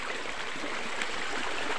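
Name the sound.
river stream flowing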